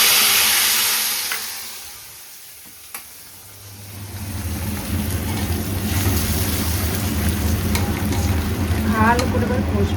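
Spice masala is stir-fried in a pan with already-fried potatoes for a vegetarian dish: loud sizzling at first fades briefly, then returns as a dense, close crackle with scraping stirs.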